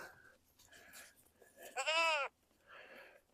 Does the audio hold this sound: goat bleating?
yes